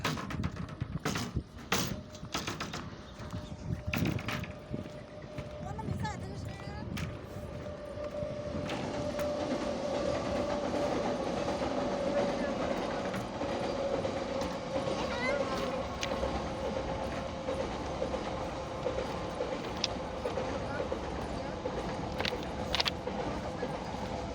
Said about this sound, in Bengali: এটা মাল ট্রেন।